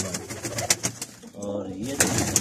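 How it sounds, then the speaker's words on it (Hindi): Pigeons perched in a row beside a nest with eggs and young chicks coo softly in repeated low, throaty phrases. The cooing is close and moderately loud over faint background noise. "ये कबूतर एक लाइन में बैठे हुए हैं, सब के सब एक लाइन में।"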